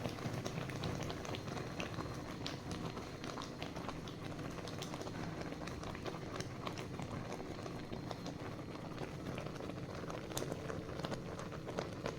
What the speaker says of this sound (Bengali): এইভাবে ফুটতে ফুটতে পুরো গুড়টা গলে যাবে